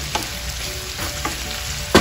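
Onions frying in a pan for pork belly adobo, a steady close sizzle with a few stirring scrapes and a sharper clack near the end, no voices.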